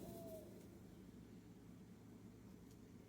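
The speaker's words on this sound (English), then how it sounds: "Hear the owl?" An owl hoots faintly in the distance, a brief soft call near the start, then a low steady background rumble with no further calls.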